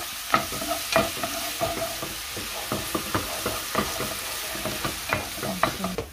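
Butter and garlic sizzle in a pan for buttered garlic shrimp, with a steady frying hiss punctuated by frequent close scraping and tapping stirs, no talking.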